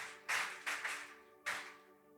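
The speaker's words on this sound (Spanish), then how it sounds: "¿Cuántos pueden dar un fuerte aplauso al Señor en esta mañana?" A church congregation claps during a Spanish-language service, in several short, loud bursts of applause separated by brief pauses, over a steady tonal background.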